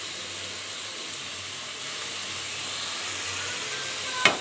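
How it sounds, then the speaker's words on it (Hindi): Tomatoes frying in a pan with garlic and ginger paste, a steady hissing sizzle held at an even level throughout, with a brief sharp clatter right at the end. "अब मैं इसमें टमाटर ऐड कर देती हूँ और टमाटरों को अच्छी तरह से भूनेंगे"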